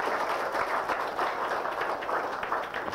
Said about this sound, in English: You're clapping for whom?